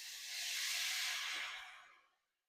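Coconut milk hits a hot pan with garlic, giving a single loud sizzling hiss that swells quickly, holds for about a second and then fades away, with no talking.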